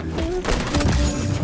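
Gunfire in the video game XDefiant, a sniper rifle at close range: a few dense thumping shots and impacts over a busy mix of game noise, with speech present.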